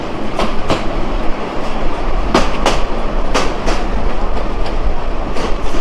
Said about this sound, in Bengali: আমাদের ট্রেন প্রবেশ করলো শ্যামপুর বড়ইতলা রেলওয়ে স্টেশন